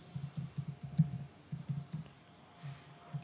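Quick bursts of typing on a computer keyboard, soft close clicks in uneven clusters with short pauses between words, quiet and alone in a calm room.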